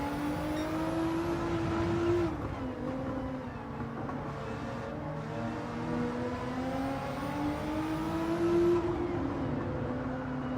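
An Audi R8 accelerates on a race track, its engine note climbing through gears with pitch sweeps rising, dropping at a shift, then rising again, loud and close throughout.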